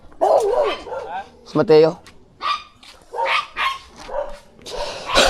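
A dog barks and yips in short bursts, some whiny and some sharp, close by and fairly loud, with people talking in between and over the barks.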